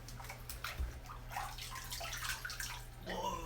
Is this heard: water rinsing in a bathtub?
yes